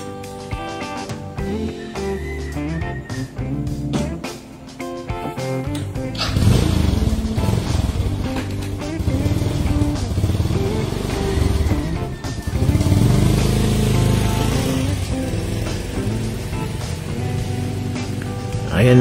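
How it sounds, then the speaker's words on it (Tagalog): A motorcycle engine rumbles and revs past on a street in the Philippines, rising loud midway and lingering amid clattering traffic noise, with no speech. "Ayan na, so narinig niyo po yung tunog ng motor."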